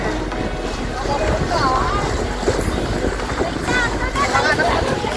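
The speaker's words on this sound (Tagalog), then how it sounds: "Sarap kasi ng hangin." Strong wind buffeting the microphone in a continuous rough roar, with voices talking underneath.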